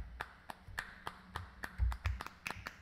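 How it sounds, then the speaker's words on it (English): A single clapping sample triggered from a MIDI keyboard, repeated as a string of sharp, dry claps at an uneven rhythm, about a dozen hits, quiet and isolated. "Now it's only clapping."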